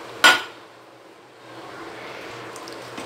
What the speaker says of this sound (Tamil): ஸோ இப்போ அதை அப்படியே போட்டு நான் ஃப்ரை பண்ணிக்க போகிறேன்.